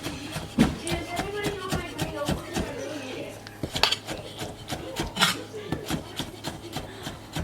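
A cleaver chops pickles into little pieces on a board, giving a steady run of close, sharp knocks and scraping taps under a faint voice.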